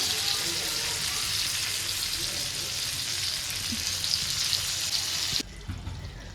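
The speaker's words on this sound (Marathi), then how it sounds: "थोडं स्टार्टिंगला मोठ्या गॅसवर तुम्ही परता नंतर ना बारीक गॅस करून तुम्ही ते ठेवू शकता" Fish frying in a pan for a fish fry curry: a steady bright sizzle throughout, fairly close, which drops off abruptly near the end, leaving a quieter background.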